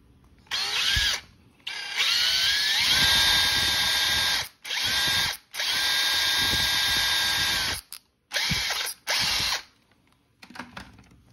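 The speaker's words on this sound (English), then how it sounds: "So now we'll be using our drill bit that's about the size of the other holes on the belt." A power drill with a bit sized to match existing holes bores a new hole through a leather belt, running in several loud close bursts separated by short pauses, with no talk.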